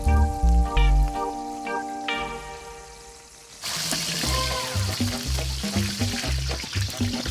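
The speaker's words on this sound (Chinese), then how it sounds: "模具压实的洋芋粑进入热油的怀抱， 表面噼里啪啦逐渐变成金黄" Mold-pressed potato cakes drop into hot oil at a roadside stall and crackle and sizzle, the frying loud and busy after the first few seconds, with a musical tone underneath.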